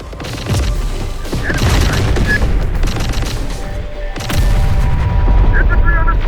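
Continuous, dense gunfire and explosive booms from a Terminator: Dark Fate - Defiance battle, rapid bursts layered over heavy low rumbling, loud and unbroken.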